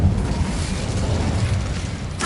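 The Incendio fire spell in Hogwarts Legacy bursts out as a steady, loud roaring whoosh of flame that fills the whole moment, ending in a brief bright crackle.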